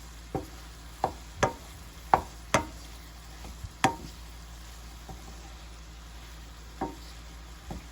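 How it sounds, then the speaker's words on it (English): Onions and celery cook down in a pan with a soft, steady sizzle, broken by about a dozen sharp taps and knocks of a utensil stirring, loud early on and spacing out toward the end. "I'm letting the onions and the celery cook down till they're a nice translucent color."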